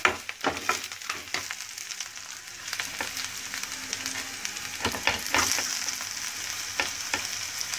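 Dal sizzling and frying in hot oil in a pan while upma is being made, a steady close crackle with occasional stirring scrapes and spatters, no voices.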